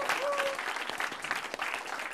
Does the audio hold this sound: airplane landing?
no